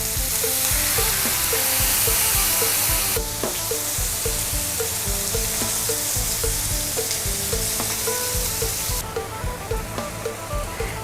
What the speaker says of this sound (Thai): ต่อไปก็เติมน้ำเปล่าลงไปสักหน่อยนะคะ